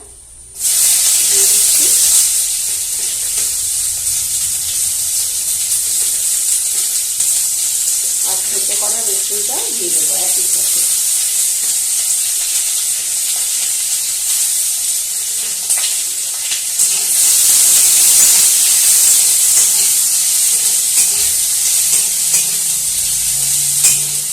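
Chopped onion hits hot oil already seasoned with panch phoron and bay leaf, giving a loud, steady sizzle that runs the whole time, with brief stirring scrapes in the middle and a surge of hiss near the end.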